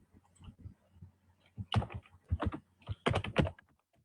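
Computer keyboard typing while text is entered into an oval frame in Adobe PageMaker: quiet, close clusters of key clicks in uneven bursts, with short pauses between groups of strokes.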